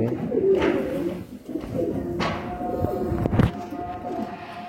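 A heavy-bodied pigeon coos in low throaty rolls at close range, mixed with handling rustles and a couple of sharp knocks.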